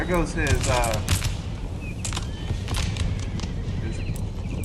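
Cavalry horses charge in the video game Empire: Total War, with drumming hooves and neighs amid crackling gunfire and battle noise, loud and continuous.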